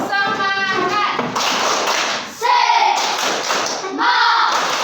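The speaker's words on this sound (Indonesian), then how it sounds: "Kita tepuk semangat sekali lagi, boleh?" A classroom of children performs a clapping chant with their teacher, voices calling out in rhythm between sharp bursts of hand claps and thumps, loud and close, with chanted lines mixed in throughout.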